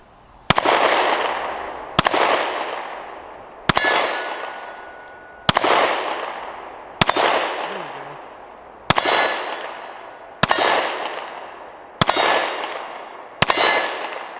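Ruger Max 9 pistol fired in slow, controlled shooting: nine sharp, loud shots spaced about every one and a half seconds, each ringing out with a long decaying echo, steel targets likely clanging.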